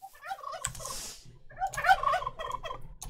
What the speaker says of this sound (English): the turkeys are making gobbly sounds